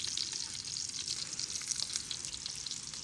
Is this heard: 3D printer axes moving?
no